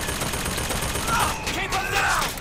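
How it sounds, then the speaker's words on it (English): Automated turret firing in the video game BioShock Infinite, a dense rattling burst of gunfire with shouting voices over it. "That's it, you shoot them. You shoot them, Mr. Turret Man."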